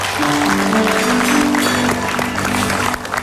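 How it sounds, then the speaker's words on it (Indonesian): A studio audience on an Indonesian television talk show claps briefly and steadily, with a low music bed running beneath the applause. "tepuk tangan dong"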